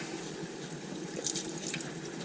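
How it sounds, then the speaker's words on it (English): Steady, soft trickle of clean water running from a sailboat's engine strainer, continuous and moderately close, with a faint splashy texture and no voices. "little bit of water coming out, but it's clean."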